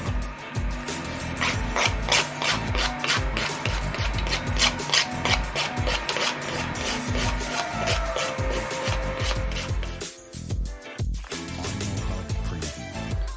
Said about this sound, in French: Donc je vais limer un coup pour que ce soit propre.